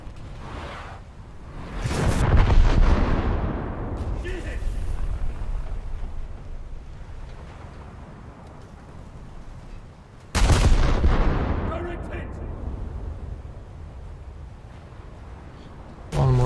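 Warship guns in a naval combat video game let off salvos: a heavy boom near the start and another sharp blast midway, each followed by a rumbling decay, with a faint voice in the background.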